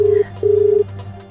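A phone being dialed to place a call, heard as two long steady tones separated by a short gap, followed by the start of a third, with a low hum running underneath.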